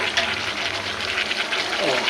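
Water poured into a pan of chicken roast frying in spice masala, giving a steady hissing, gushing wash of liquid and sizzle throughout, close and fairly loud, with a voice faintly present beneath.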